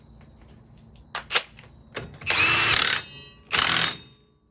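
Axle nut being threaded on by hand on a Polaris RZR Turbo during a wheel bearing replacement: a few sharp metallic clicks followed by two longer rasping ratchet-like bursts, close up and alone.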